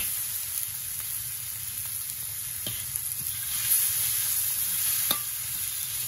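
Cut potatoes sizzling steadily in hot oil in a pan, with occasional stirring scrapes and taps from a utensil; close, continuous frying hiss with no talk.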